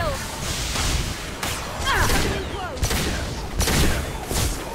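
Gunfire in Mass Effect 2 aimed at a heavily armored mech, several sharp shots and bursts with whooshing weapon effects between them, loud and close, under a steady murmur of talk.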